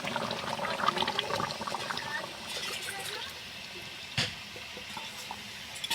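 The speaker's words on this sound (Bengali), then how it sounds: "তো এবার এই নারকেলের দুধটা দিয়ে দেবো।" Coconut milk poured into a pan of simmering duck curry, giving a steady liquid splash and trickle up close, easing off midway, with a brief clatter near the end.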